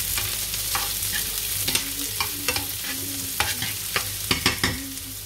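Garlic and vegetables sizzle in a pan while a utensil scrapes and knocks against it in irregular strokes, a steady close frying hiss beneath the repeated stirring sounds.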